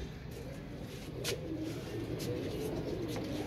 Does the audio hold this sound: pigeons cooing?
yes